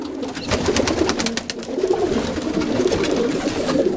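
Roller pigeons coo in a loft, with a chorus of soft overlapping throaty coos, fairly close and continuous alongside faint rustling and wing movement, without talking.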